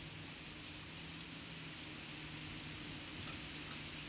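Steady rain falls in a backyard in the aftermath of Hurricane Ida, a soft, even hiss with a faint low hum underneath, continuous and unchanging with no voices.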